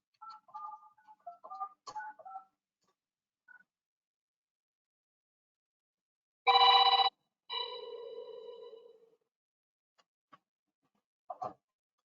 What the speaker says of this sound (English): if I go ahead and dial this number